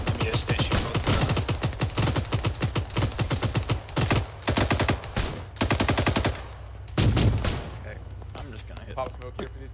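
Sustained automatic gunfire in the military shooter Arma 3, long bursts of rapid shots broken by brief pauses, loud and close, with a few quieter scattered shots near the end.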